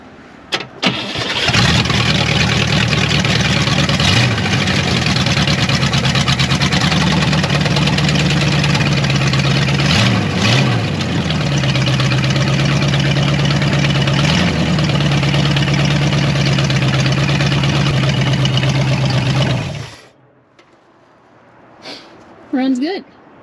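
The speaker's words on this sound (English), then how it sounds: "Motor sounds good." A 1962 Cadillac Coupe Deville V8 idles loud and close, a steady rumble with a few small revs, running for about twenty seconds before it cuts off and quiet follows.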